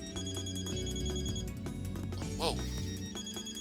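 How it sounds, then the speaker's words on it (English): A cell phone on a desk in a video game, a buzzing, ringing tone over a steady synthetic music bed, with a short rising chirp partway through; a voice briefly exclaims. "I heard a cell phone vibrate on one of the desks, so I rushed over to check it."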